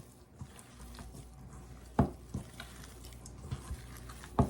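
Spoon stirring and mixing a Salisbury steak mixture in a bowl, with soft wet squishing and a few sharp scrapes and knocks standing out against quiet background noise.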